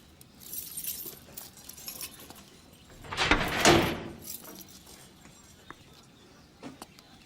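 A prison cell door being opened, a short metallic clank and slide peaking midway, with faint key-like jangles and clinks around it, moderately close in a quiet room.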